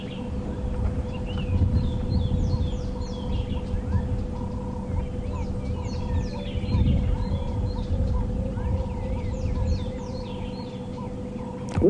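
Small birds give repeated sharp alarm calls all around on an African safari drive at sunrise, chattering over a constant low engine hum with faint rumbling underneath.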